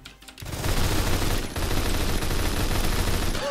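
Continuous rapid automatic fire from an HK21 machine gun in a video game, a dense loud burst running steadily for several seconds after a brief quiet start, with no speech over it.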